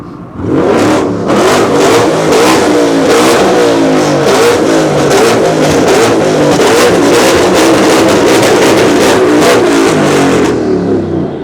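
A car engine revs hard and loud at a supercar show, rising and falling in repeated bursts of throttle with a rough, rapid pulsing roar, close up.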